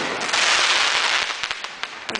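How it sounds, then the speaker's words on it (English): Gunfire on New Year's Eve in Texas, a dense crackling rattle of sharp pops that thins into scattered louder distinct cracks, heard outdoors with no talking. "But it's not fireworks, it's fucking guns."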